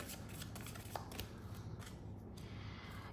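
Tarot cards drawn one after another from a deck, quiet papery slides and flicks with a few crisp snaps, close and faint, no talking.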